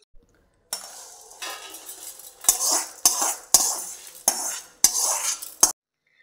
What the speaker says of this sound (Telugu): ఇప్పుడు ఎండు మిరపకాయలు వేసి వేయించుకుందాం.